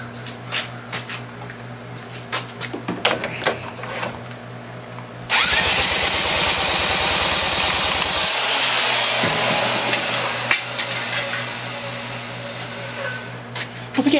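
A 15 HP Johnson outboard engine that has sat unused cranks and roars to life, running loud and rough for about three seconds before cutting out, with quieter clicks and background hum before and after.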